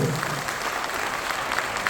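A foundation day event audience at Shanmukhananda Hall in Mumbai welcomes the management team with continuous, dense applause, a steady wash of clapping throughout with no speech.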